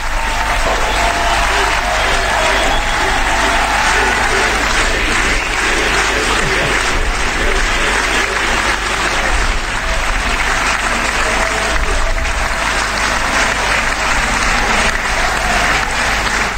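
Loud, dense applause from a large audience greeting a president fills the whole stretch, steady and continuous without a break.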